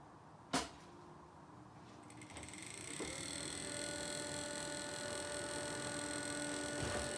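A 2009 Vortice extractor fan switches on with a click and settles into a loud, rough, steady hum with whining tones, running continuously with no talk.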